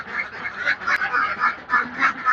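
Laying ducks in a dry pen quack in a loud, rhythmic chorus of repeated nasal calls, close by and continuous, with no talking over them.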